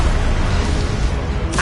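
Confringo and Expelliarmus spells cast in the Hogwarts Legacy video game, a dense, loud blast of magic sound sustained throughout with a sharper burst near the end.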